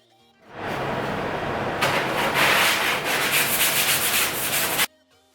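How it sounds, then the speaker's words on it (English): Hand sanding fiberglass on a Lotus Elise front end: a continuous scratchy rubbing that starts smoothly, then turns into quicker back-and-forth strokes for several seconds before stopping abruptly. "All right, so I did some sanding there"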